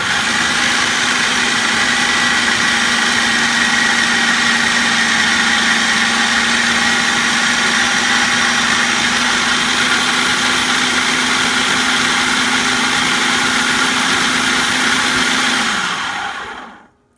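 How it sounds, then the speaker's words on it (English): A loud, steady blender whir as it blends pesto, olive oil drizzled in, running continuously for a long stretch at close range, then cutting off abruptly at the end. "I usually drizzle the olive oil in while it's blending"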